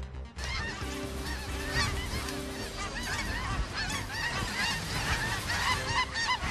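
A large flock of snow geese on a Manitoba hunt honks nonstop, with dense overlapping calls near and far forming a loud, continuous din.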